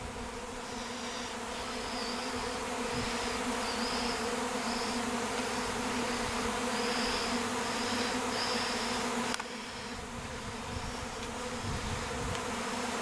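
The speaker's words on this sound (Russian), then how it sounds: "Все в пчелах." A honeybee swarm hums in a dense, steady drone that stays close and unbroken for over ten seconds.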